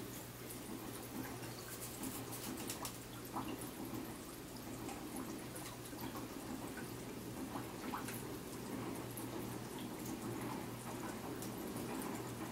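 An aquarium air-driven filter pushes out a heavy stream of bubbles, giving a continuous close gurgling and fizzing with a low pump hum underneath.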